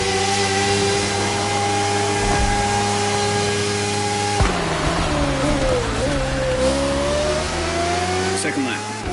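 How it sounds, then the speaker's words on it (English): Steady rain hiss over a continuous droning car engine in the racing video game The Crew Motorfest, rising and falling in pitch as it revs, loud and unbroken throughout. "That rain is going to cut your visibility."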